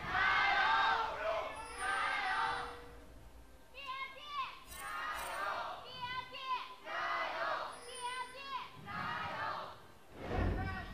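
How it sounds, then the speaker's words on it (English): A large esports arena crowd at an LPL League of Legends match roars and chants in waves, loud and sustained, with shouted voices rising and falling across the whole stretch. "The crowd cheers it on"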